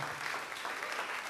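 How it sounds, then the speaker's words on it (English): An audience at a talk claps steadily and fairly faintly for just over a second, a dense even patter of many hands with no voices. "Give them a round of applause."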